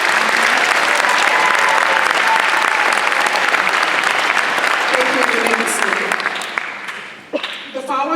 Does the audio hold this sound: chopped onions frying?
no